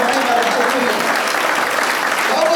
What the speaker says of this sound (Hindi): ताली बजा के प्रभु को